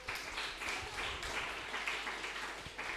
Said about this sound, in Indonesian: Sekali lagi tepuk tangan untuk yang berani maju.